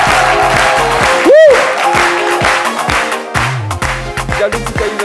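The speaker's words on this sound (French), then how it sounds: "l'intemporel, Diallo Tikwayi Vincent, sous vos applaudissements, mesdames et messieurs" A studio audience at a midday TV show applauds loudly with dense clapping, mixed with a whistle, cheering and some voices, under a steady rhythmic beat.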